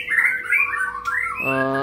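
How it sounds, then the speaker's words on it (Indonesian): A long-tailed white-rumped shama sings overhead in a home aviary, a bright run of varied whistled phrases followed by a sustained harmonic call, loud and close. "mohon maaf kalau misalkan live streaming kita agak berisik ya, karena di atas saya ini burung-burung saya"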